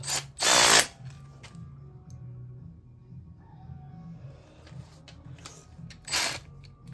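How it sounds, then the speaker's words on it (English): A ratchet wrench clicks while cylinder head bolts are torqued on an LS1 engine, with brief loud bursts of tool noise at the start and end and quieter ratcheting clicks and low background hum between. "now we've got all the bottom head bolts torqued, and we're going to do the top ones"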